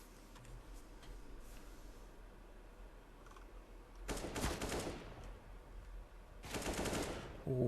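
Two loud bursts of rifle spray gunfire in Counter-Strike: Global Offensive, a competitive ESEA match, cut through low ambient game noise, the second burst following a few seconds after the first.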